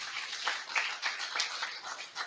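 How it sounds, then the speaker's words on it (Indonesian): A congregation claps together at a church worship service, a steady, moderately quiet patter of many hands with no voices over it. "Tepuk tangan buat dia"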